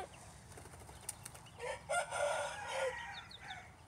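A rooster crows once, a moderately distant, drawn-out cock-a-doodle-doo rising midway, preceded by a few faint clucks and rustles in a quiet outdoor setting.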